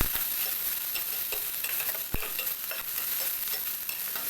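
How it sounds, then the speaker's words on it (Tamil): Chopped onion, green chillies, mustard seeds and curry leaves sauté in hot oil, giving a steady, dense sizzle with occasional spatula scrapes and one sharp tap, heard close and continuous with no voices. "ஒரு வெங்காயத்தையும் நல்லா குருணியாக வெட்டி இதோடு சேர்த்து நல்லா வதக்கணும்."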